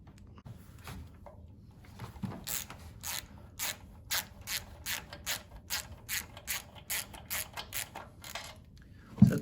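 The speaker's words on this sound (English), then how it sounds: "We do this from undoing these 4 Allen key bolts and also this wedge." A hand ratchet loosens Allen key bolts on a backsplash seal, making a steady series of about fifteen crisp clicking strokes, evenly paced and close, with no talking.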